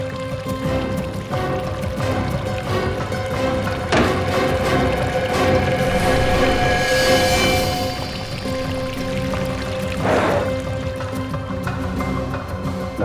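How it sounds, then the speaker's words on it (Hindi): Water runs steadily inside a hotel room, a continuous loud rush with a brief louder splash partway through and no speech. "पानी की आवाज।"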